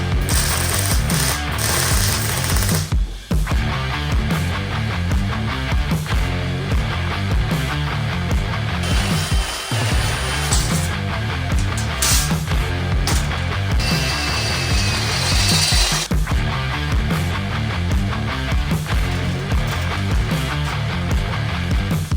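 A power tool cuts out a seat pan for a Harley-Davidson Shovelhead motorcycle, producing a loud, continuous, rapid mechanical chatter with brief pauses. It is close by and no voices are heard.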